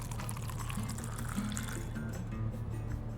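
Whiskey is poured neat into a glass at a bar, a steady liquid stream with light trickling that continues throughout, up close over a low hum of bar ambience.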